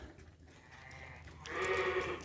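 Sheep bleating inside a barn full of lambs, a low murmur of animals then a louder close bleat in the second half, no talking.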